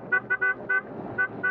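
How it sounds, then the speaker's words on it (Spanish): A car horn toots about six times in quick, uneven bursts on a Mexico City street near a taxi, close and fairly loud with faint traffic behind. "cuando usted pase por ahí, tóqueme claxon con amor"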